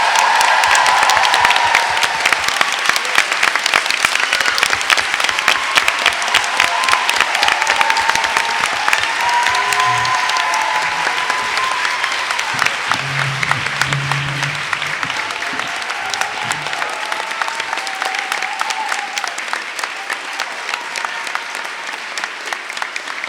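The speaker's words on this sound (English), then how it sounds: "let's give our cast a big round of applause" A large fan-convention crowd applauds the full cast at a panel, loud, dense clapping that runs unbroken for over twenty seconds and slowly tapers, with a few scattered whoops mixed in.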